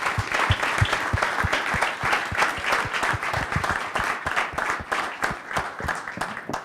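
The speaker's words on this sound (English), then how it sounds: "Can we give Don a big round of applause?" Audience at a founders' lunch gives a big round of applause for guest speaker Don Wright, dense continuous clapping with many distinct hand claps, steady and fairly close for the whole stretch.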